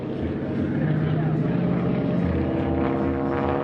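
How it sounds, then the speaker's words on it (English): Radial-engine aerobatic airplane flying past at the 2019 Culpeper Air Fest, its low growling drone swelling loud and steady as it nears show center, with an announcer talking over it. "You will hear that radial engine, that low growling noise, but listen to this as he comes by."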